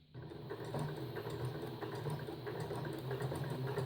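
Sewing machine running steadily while stitching a cloth menstrual pad with an exposed core, a continuous close motor hum with rapid needle rhythm and no talk.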